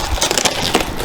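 Cardboard and plastic packaging is torn and crushed open up close, giving short loud crinkling and ripping bursts.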